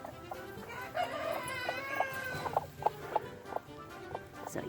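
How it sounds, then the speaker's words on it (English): Several chickens cluck and chatter inside a backyard coop, with short rhythmic clucks repeating close by over a steady low background. "And Cha-Cha is Donnie's daughter's chicken that I hatched out for her."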